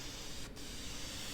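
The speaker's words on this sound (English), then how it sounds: "this can is not spraying very well" A spray paint can hisses steadily as it coats a retired Air Force flag, a continuous broad hiss with a brief dip partway through, fairly close and alone.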